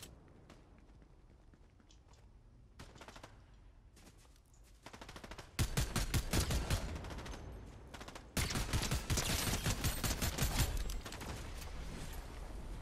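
Bursts of automatic gunfire in the video game Fortnite, starting as faint scattered shots and then building into loud, sustained rapid-fire volleys close by, with brief pauses between the bursts.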